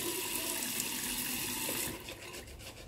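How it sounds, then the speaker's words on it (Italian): Tap water runs steadily onto a shaving brush, a close, full rushing stream that suddenly drops in level toward the end as the flow is cut or the brush is moved away. "adesso non manca acqua, cosa facciamo? Semplicemente la aggiungiamo al pennello."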